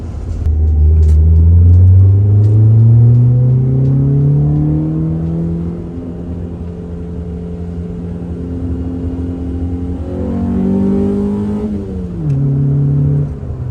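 A Honda Civic D-series single-cam engine revs up loudly, settles into a steady drone, then revs again and drops back, close by with no talking.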